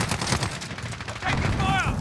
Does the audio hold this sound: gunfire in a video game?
yes